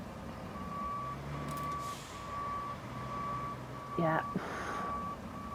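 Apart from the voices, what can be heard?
truck reversing beeps in Roadcraft video game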